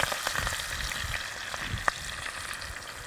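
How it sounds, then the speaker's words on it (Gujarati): Ajwain seeds and chili pieces frying in hot oil, a close, crackling sizzle with quick pops and a sharp clink partway through. "અજમો જેવો થોડો આપણો લાલ થાય એવો તરત જ છે આપણે એમાં આપણી જે મરચાંની કટકી છે એ નાખી દઈશું"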